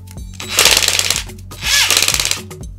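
A Parkside PASSK 20-Li A1 cordless impact driver fitted with a socket and run on a low setting hammers in two short bursts of rapid, rattling impacts, close and loud, with a brief pause between them.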